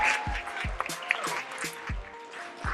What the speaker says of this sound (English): round of applause for Amber Ravenel